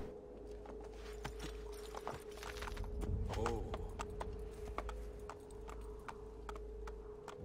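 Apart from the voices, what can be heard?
horse hooves clip-clopping in Assassin's Creed II video game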